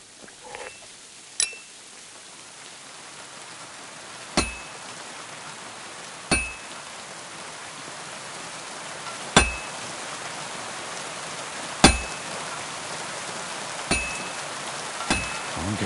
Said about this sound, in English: pissing down rain again.